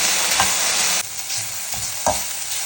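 Okra frying in a pan while being stirred, with a steady loud sizzle throughout and a few soft scraping stirs of the spoon; no voices.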